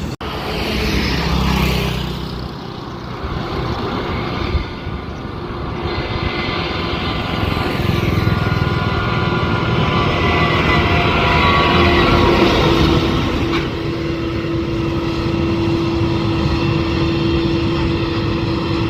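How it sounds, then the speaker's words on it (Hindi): A loud, steady combine harvester engine drones throughout, with a deep rumble and a constant mechanical whine, recorded up close with no talking. "जब ये कंबाइन हार्वेस्टर की जो आवाज़ आती है ना, बहुत ही अच्छी आती है मुझे भाई।"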